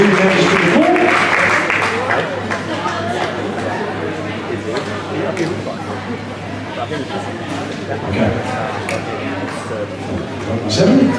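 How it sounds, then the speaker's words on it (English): Audience applause at a ballroom dance competition for a Masters B Grade Standard event, a broad wash of clapping with crowd chatter and voices mixed in, loud at first and easing slightly before swelling again near the end. "Give them a round of applause."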